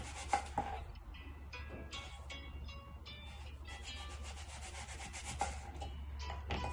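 A knife slicing an apple thinly makes repeated soft scraping, rubbing cuts in a steady rhythm over a low background hum.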